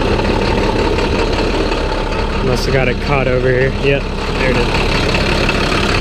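A 2014 International 4300 Durastar truck with a MaxxForce DT diesel engine idles with a steady, close low rumble that runs the whole time while someone talks over it.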